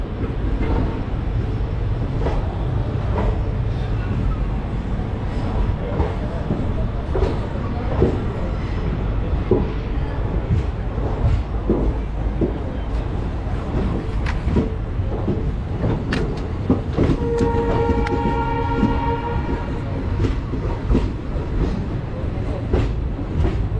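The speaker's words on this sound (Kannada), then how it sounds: "ಈಗ ನಮ್ಮ ಟ್ರೈನ್ ಡಿಪಾರ್ಚರ್ ಆಯಿತು" The Leelan Express rumbles and rattles steadily out of platform 7 on the Jaipur to Jaisalmer route, clickety-clack wheel noise continuous and close, with faint voices in the background.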